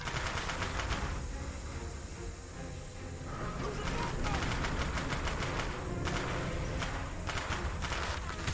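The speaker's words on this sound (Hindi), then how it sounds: "बस दोस्तों गोलियां इतनी बार चल रही है" Automatic weapons fire in Call of Duty: Black Ops, mission 3: close, loud bursts of rapid gunshots repeat in a dense, rattling stream with only short gaps between volleys.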